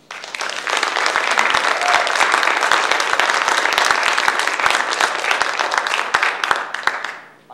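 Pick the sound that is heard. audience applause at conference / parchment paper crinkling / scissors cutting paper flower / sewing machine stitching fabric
audience applause at conference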